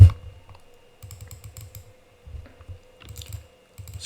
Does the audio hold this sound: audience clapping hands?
no